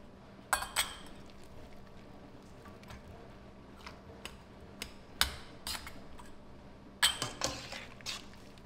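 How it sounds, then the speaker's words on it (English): Glass canning jars clink and chink against each other in scattered bursts while peppers are packed for canning, close by, with sharp bright knocks and quiet pauses between them. "Now we can jar up our peppers"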